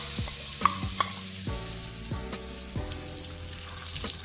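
Spices for a chutney sizzle in hot oil in a pan, a steady bright crackle with repeated scraping stirs and a couple of sharp metallic taps, close and alone.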